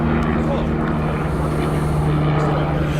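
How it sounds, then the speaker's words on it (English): A helicopter flies overhead above a raised roadside bank, giving a steady, fairly loud rotor and engine drone that holds constant throughout with no break. "It's the sound of a helicopter instead."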